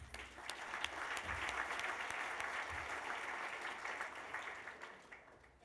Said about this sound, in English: Who knew that the applause would come for the digital bin?